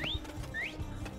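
Two short rising whistled bird calls from a falcon in the VR game Falcon Age, clear and fairly close, separated by a brief pause over a low game ambience.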